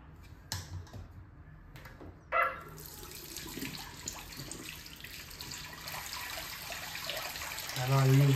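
Water gushes from a tap after a couple of clicks, a steady hissing stream that grows louder toward the end.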